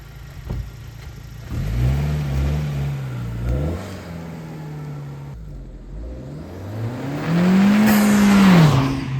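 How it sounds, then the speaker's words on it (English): An 11th-gen Honda Civic Si fitted with a PRL short ram intake revs hard twice, its engine note climbing and falling, the second rev higher and louder, with a strong intake roar and no talking. "It's a PRL short ram intake, and honestly, it sounds great."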